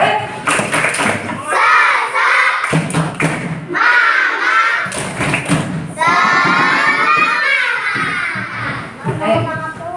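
A class of children in an Indonesian school claps out a rhythmic cheer chant together, loud and close, with bursts of claps mixed with their chanting voices and a teacher leading.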